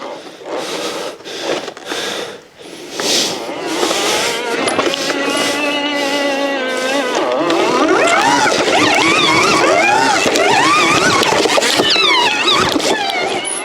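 A 2023 Electric Motion electric trials motorbike ridden over rough ground, its motor whine rising and falling in steady loud sweeps, with scraping and squeals from tyres on terrain.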